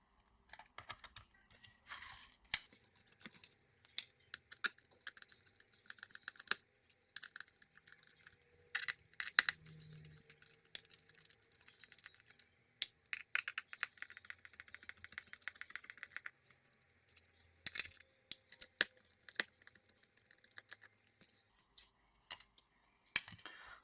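Small screws being removed from a Lenovo Yoga Slim 7 laptop's back cover with a T4 screwdriver, sparse quiet clicks and metallic ticks in irregular bursts with pauses, close up and faint.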